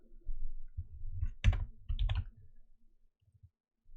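Typing on a computer keyboard: a handful of quiet clicking keystrokes in short bursts, with a couple of sharper taps, then a few faint clicks trailing off, alone in a quiet room.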